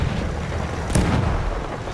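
A single sharp gunshot from Battlefield 1 gameplay cracks out near the middle, set against a constant low rumble of battlefield noise and distant booms.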